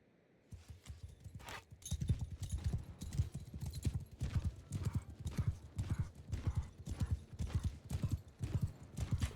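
Cavalry horses gallop in Mount & Blade II: Bannerlord, a dense, loud, rapid drumming of many hooves that starts after a brief pause and continues close by to the end.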